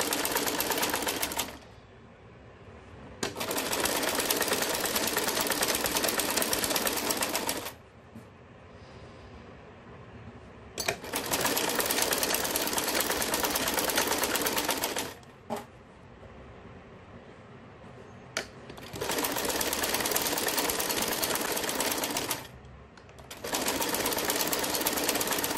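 A sewing machine stitches a salwar at home in four long bursts of steady, loud whirring, each lasting several seconds, with short quieter pauses between runs.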